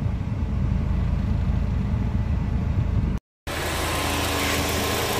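Volkswagen Fox engine runs at a steady idle with a dense, close rumble, broken by a brief dropout before a brighter, harsher noise from the power steering carries on.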